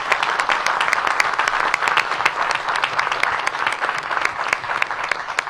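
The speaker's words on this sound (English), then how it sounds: "So let's give them an early round of applause." A crowd applauds the budget staff at Mayor Bowser's Fiscal Year 2026 DC budget presentation. Sustained clapping from many hands fills the room, with sharp individual claps standing out above the steady mass throughout.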